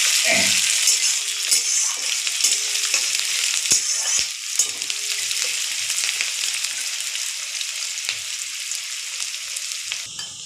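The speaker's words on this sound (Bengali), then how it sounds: "এগুলো বাদামি কালার করে ভেজে নেব প্রথমে" Chicken leg pieces frying until brown in a pan sizzle steadily and close, with occasional clinks and scrapes from stirring and no voices.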